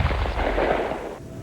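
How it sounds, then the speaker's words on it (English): A deep rumbling blast from explosives set off underground for seismic research, a loud sustained roar with low booming energy that fades slightly toward the end. "Today, 10 explosions set off."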